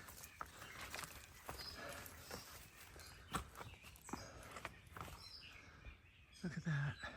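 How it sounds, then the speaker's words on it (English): Birds chirp faintly in the early morning on the Appalachian Trail, scattered distant tweets mixed with footsteps crunching along the path and some quiet handling noise. "the birds were chirping early this morning"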